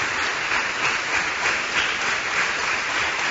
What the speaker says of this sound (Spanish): Dice el Salmo 47, batí las palmas, bendito Yahshua HaMashiach.